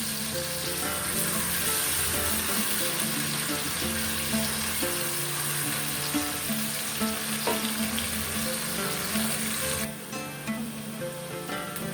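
Onion frying in oil in a pan, with a loud, continuous sizzle that holds steady throughout and shifts slightly near the end, with no voices.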